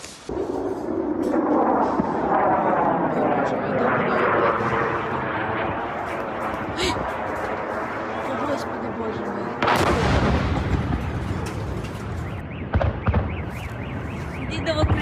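Heavy, continuous booming and crackling air defense fire in Ukraine during a Russian Shahed drone strike rolls on without pause, with a sharp loud explosion partway through, dense and distant-to-near, no clear voices.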